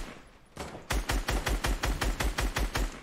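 Rapid video game gunshots: after a short quieter lead-in, about ten sharp, evenly spaced shots crack out loud and close in a steady rhythm.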